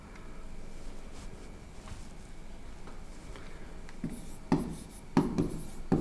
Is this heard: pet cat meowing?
no